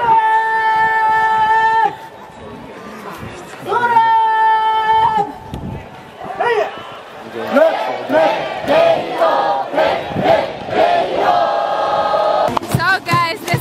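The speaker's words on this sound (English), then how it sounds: "So guys, this is how you have to cheer" A large crowd cheers at a Japanese university baseball game, with voices rising in sustained, chant-like bursts that start and stop together over a steady din of stadium noise.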